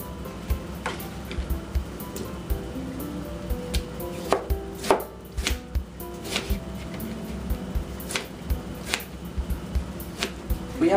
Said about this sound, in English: I'm just going to chop this up nice and fine.